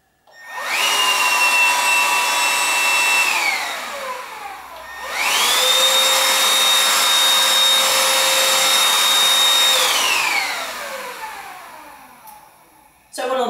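A Gtech Pro cordless bagged vacuum on eco mode spins up to a steady high whine, cuts off, then starts again and holds a loud, even hum before winding down.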